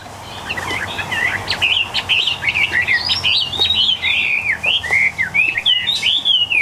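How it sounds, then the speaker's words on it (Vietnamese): Chinese hwamei songbird delivering a loud, continuous run of varied whistled phrases and rapid chirps, close and clear over low background noise, with no talk. "Đây là con họa mi số 8 đây."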